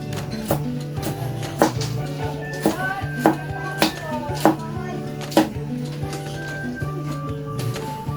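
Knife chopping garlic and onion on a cutting board for squid adobo, a steady run of sharp close taps with louder strikes at intervals, over a low background hum while a voice talks alongside.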